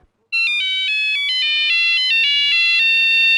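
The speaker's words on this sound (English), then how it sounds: "the ringtone of Lisa's phone filled the room." A loud electronic phone ringtone begins suddenly and plays a repeating, bright melodic pattern of alternating tones.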